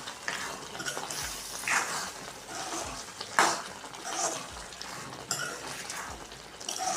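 Gathiya is stirred into a tomato curry in a pan over low heat: a soft simmering sizzle runs throughout, broken by the scrape and clink of a spoon against the pan every second or so.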